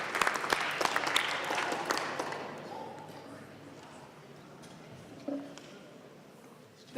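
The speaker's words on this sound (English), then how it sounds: "Really aggressive clap." Applause from an audience at a youth government State of the State address in the Minnesota chamber, a burst of dense clapping at the start that fades to a quieter murmur of the room within a few seconds.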